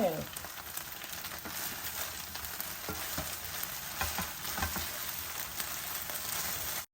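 Cabbage Manchurian sizzles steadily in a hot pan as coriander is added, a dense, continuous frying hiss with occasional louder crackles from stirring, close and unbroken throughout.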